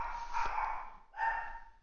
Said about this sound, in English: I'm gonna go shut the door so you can't hear the dogs barking.